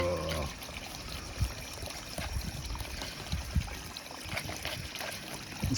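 Water is stirred into a bucket of very fine crushed rock left over from gold extraction, a soft, continuous sloshing and trickling with occasional scraping bumps, close and moderately quiet.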